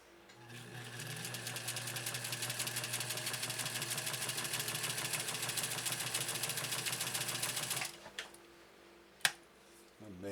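A 1956 Atlas sewing machine stitches 100% cotton, a steady, fast mechanical whirr and rhythmic clatter for about eight seconds, loud and close, then it stops, followed by a couple of small clicks and a sharp tap.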